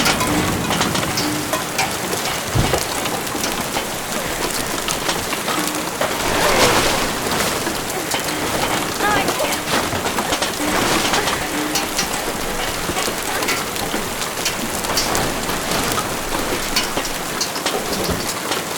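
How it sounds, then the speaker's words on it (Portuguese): Rain pours down outdoors under a clouded sky, a loud, dense, continuous patter on surfaces with a swell of heavier noise partway through and no one speaking. "Tá chovendo de novo."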